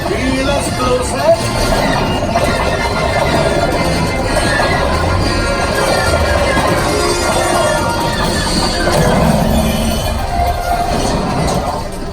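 A simulated train on the Millennium Falcon Smuggler's Run theme park ride gives a continuous loud rumble and rattle of rail cars, steady throughout, with people talking over it.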